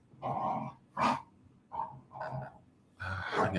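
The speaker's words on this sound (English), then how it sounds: "These dogs are going to drive me nuts." Several dogs barking and growling nearby in a series of five rough bursts separated by brief pauses, fairly close and clear, with no talking over them.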